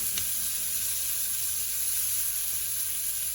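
Sardines fry in a pan with a steady, even sizzle and hiss that holds at constant loudness from start to finish, close up and uninterrupted.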